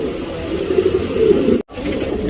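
A tournament pigeon, a regular Tiravalu male, coos in a low throaty repeated rumble close by, broken by a brief dropout, with no talk.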